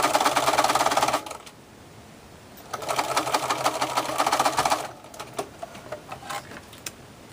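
A sewing machine runs in two steady bursts, stitching around a fleece arm warmer, its fast even whirr close and clear, with a pause between the runs and scattered small clicks afterward.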